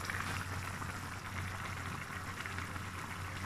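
A pot of water for pancit bubbles and simmers at a steady low rumble, quiet and close, with no one speaking.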